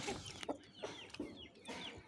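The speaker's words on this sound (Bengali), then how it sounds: "নাম করা একজনের মোরগ সাফন কুরেশি ভাইয়ের থেকে নেওয়া হয়েছিল ইন্ডিয়ান মোরগ" An Indian Aseel rooster clucks in a short series of close, sharp calls, about four or five clucks spaced irregularly over two seconds, heard alone.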